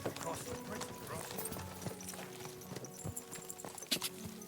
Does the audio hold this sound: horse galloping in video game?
yes